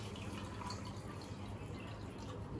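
Water is poured and measured out for coxinha dough, a steady close trickle and splash running without a break for the whole stretch, with no one talking.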